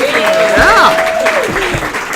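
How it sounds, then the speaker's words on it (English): Audience applause at a NIRSA Region 2 conference in November 2018, loud, close clapping that carries steadily throughout while a voice speaks over it. "A round of applause for these great NIRSA leaders"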